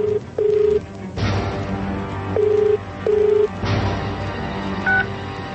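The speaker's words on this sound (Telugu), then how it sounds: "శివ, ముందు మీరు డాక్టర్ కు ఫోన్ చేయండి." A telephone keypad dialing a doctor's number, with clear, loud touch-tone beeps pressed one after another at uneven intervals and steady room noise between them, no talking.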